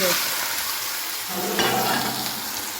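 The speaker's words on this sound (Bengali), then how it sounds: "খুন্তিটা নিয়ে নিচ্ছি, তেল দিয়ে নাড়া দিয়ে নিই" Egg toast fries in hot oil, loud continuous sizzling and crackling with scraping as a spatula stirs it through the pan.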